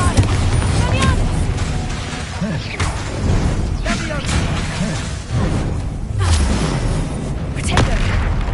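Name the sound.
explosive spells cast in the video game Hogwarts Legacy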